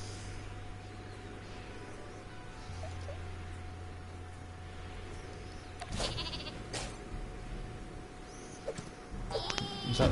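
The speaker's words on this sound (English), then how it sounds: "Sheep." Bleating sheep from the video game Worms WMD, cartoonish bleats rising over a low droning game background, with a few sharper clicks and bursts toward the end.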